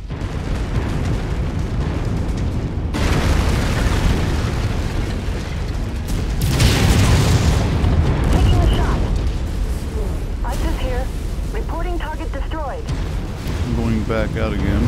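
Vehicles blow up in a MechWarrior battle. Heavy booms and crackling blasts roll over a constant roar of combat noise, and radio-style voices and chirping effects come in near the end.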